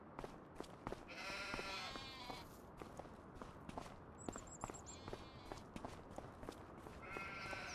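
Goats on a farm in Farming Simulator 25 bleat in a few short wavering calls, mixed with clicky footstep-like steps and farmyard ambience, with no talk over them.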